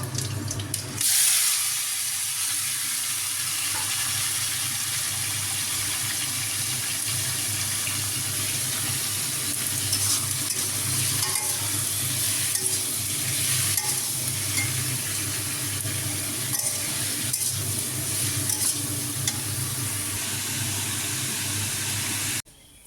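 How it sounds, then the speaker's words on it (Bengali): Kohlrabi frying in a pan for a vegetarian meal, a steady close sizzle and crackle that runs unbroken for the whole stretch with no talk over it. "আর এদিকে ওলকপি ভাজা হবে"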